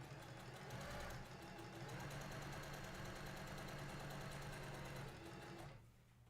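A sewing machine stitches a quilt seam that is turned under, its steady rapid needle chatter running loud and continuous close by before stopping abruptly near the end.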